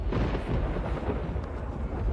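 A deep, continuous rumble of thunder rolling steadily throughout, low and heavy with no pauses.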